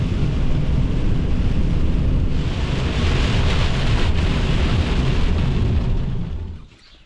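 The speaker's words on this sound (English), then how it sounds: "Now it's raining." Rain falling on a farm, a loud, steady broadband rush with low rumble like heavy rain or wind on the microphone, continuous before fading out in the final second.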